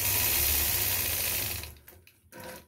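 Domestic sewing machine stitching during ruler-guided free-motion quilting, a steady close mechanical whir for over a second and a half, then cutting out into brief stop-start bursts.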